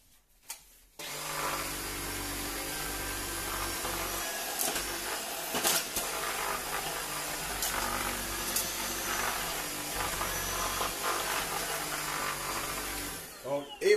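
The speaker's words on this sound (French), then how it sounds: "vraiment extrêmement puissante comme aspirateur" Tineco S12 cordless vacuum cleaner running over a floor, a steady motor whine that switches on abruptly and holds at moderate loudness with occasional bumps and clicks before cutting off near the end.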